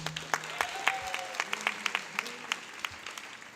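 A round of applause at a 2016 high school graduation ceremony rises into a steady patter of many clapping hands, with faint voices briefly underneath before it thins out.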